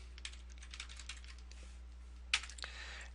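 Computer keyboard typing during a Dreamweaver CS6 web page tutorial: light, quick key clicks in short bursts, close and faint over a steady low hum, with one sharper louder click near the end.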